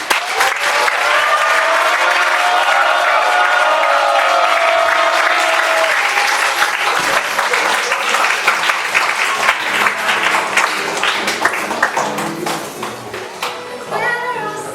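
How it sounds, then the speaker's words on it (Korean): Sustained applause from a church audience welcoming performers at a Christmas praise singing contest, steady and full for most of the clip before thinning toward the end as a voice begins speaking. "큰 박수로 맞이해주시기 바랍니다"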